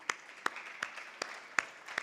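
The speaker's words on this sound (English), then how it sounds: "But let's applaud them." Sparse, scattered claps from an audience at a summit, six or so distinct hand claps spaced irregularly across a couple of seconds, faint and distant.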